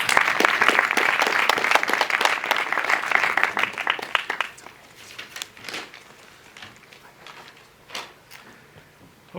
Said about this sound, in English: Let's give these guys another hand of applause.